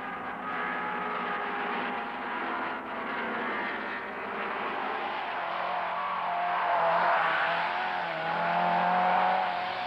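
Rally car racing in the 1974 Tour of Britain, engines droning and revving past at moderate distance, pitch rising and swelling louder toward the end with no talk.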